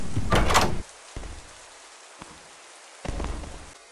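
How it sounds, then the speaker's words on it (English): A fireplace door in the Melon Playground game opens with a loud rattling clatter, then gives a few short knocks and ends with a second heavy scraping burst. No voices are heard. "Is that fireplace door gonna open?"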